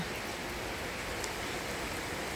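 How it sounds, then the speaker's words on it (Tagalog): Heavy rain pours steadily outdoors in the Netherlands, a dense unbroken hiss of falling water with no voices. "Tingnan nyo, maulan naman. Ang grabing ulan guys."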